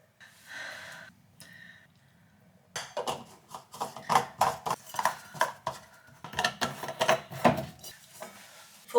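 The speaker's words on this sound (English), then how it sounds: "So I am going to spoon some into these containers." Spoonfuls of homemade sweet potato, potato, carrot and parsnip soup being ladled into containers, with a string of close, rhythmic clinks and scrapes of spoon against pot and containers following a few quieter knocks.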